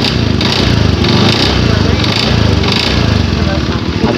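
A Honda Beat Street scooter engine, its oil run dry, revved in rapid pulsing bursts with a rattling, buzzing mechanical noise riding on the engine note, loud and close throughout.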